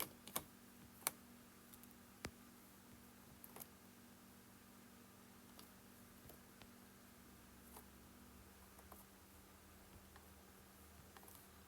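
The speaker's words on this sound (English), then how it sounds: "I'm typing this on a messed up little keypad." Sparse, faint clicks from typing on a small, worn keypad, irregular and widely spaced over a steady low hum, with a few sharper taps early on.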